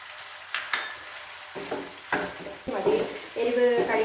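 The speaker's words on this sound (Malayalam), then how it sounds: "ഇതിനകത്ത് നമ്മൾ ഈ പച്ചമുളക് കൂടെ ഇട്ട് കൊടുക്കും" Green chillies dropped into masala sautéing in a pan for fried chicken curry, with a close sizzle and a few scattered stirring scrapes that build louder toward the end, no speech.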